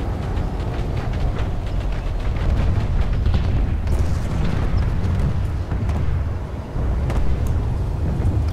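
Rumbling explosions and booming blasts roll continuously at the top of a captured base in the game PlanetSide 2, loud and dense, with sustained low roar and scattered crackling impacts throughout.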